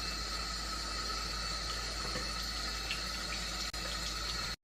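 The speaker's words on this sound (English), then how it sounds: "Rinse them out with water like this." Makeup brushes rinsed under a running tap, a steady hiss of flowing water into a sink, even and close for several seconds with a brief break near the end.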